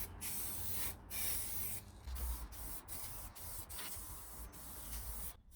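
An aerosol spray can lays a light coat of paint on plastic car bump strips, a close steady hiss in several sustained bursts separated by brief pauses.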